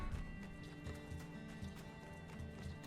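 A horse in the desert game My Time at Sandrock, rhythmic close clip-clopping hooves with a neigh over a continuous game soundtrack.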